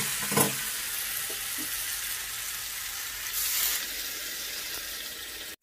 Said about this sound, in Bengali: 2 মিনিট মতন আলুটার সঙ্গে মশলাটা ভালো করে কষিয়ে নিয়েছি। দিচ্ছি জল,